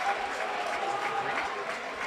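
A high school boys basketball crowd at a game against Wakefield roars with dense, continuous applause and cheering, filling the gym at close range.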